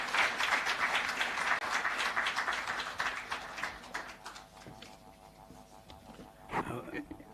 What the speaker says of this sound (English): let's give a huge round of applause and welcome our chief guest